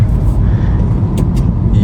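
A cheap used BMW with an automatic gearbox drives along, with a steady low engine and road rumble heard from inside the cabin and brief higher noises on top.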